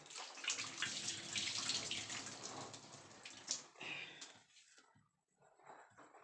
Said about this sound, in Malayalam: ഇനി നമുക്ക് മീനെല്ലാം കഴുകി കഴുകിയെടുത്തതിൻ്റെ ശേഷം കാണാം